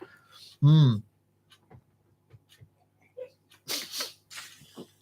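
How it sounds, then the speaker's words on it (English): A single sharp sneeze bursts out, followed by quiet shuffling and then some soft, muffled speech. "So that's my wife sneezing next door."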